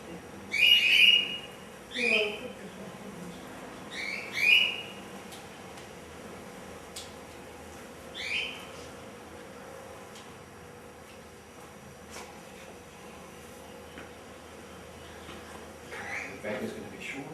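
Birds whistling in short, bright bursts, a few quick chirps at a time, spaced irregularly against a quiet indoor background and fairly soft.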